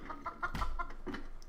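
A Minecraft chicken in the Dragon Block C mod gives a few short clucks in quick succession, faint and close, alone without talk.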